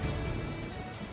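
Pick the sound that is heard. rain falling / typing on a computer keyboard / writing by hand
rain falling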